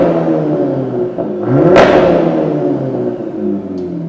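A car engine revving in comfort driving mode, a steady rumbling drone that swells briefly with a sharp mid-clip rise before settling back, close and loud with no talking.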